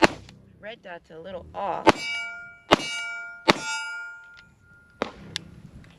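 Several sharp handgun shots ring out from a 9mm pistol fitted with a red dot sight, spaced unevenly, with strong metallic clangs and ringing decay like steel targets being hit; someone speaks briefly before the shooting.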